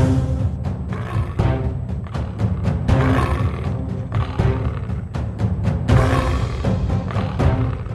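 A leopard caught in a net in a house's parking area lets out repeated loud, harsh snarls and growls in irregular bursts, with commotion around it.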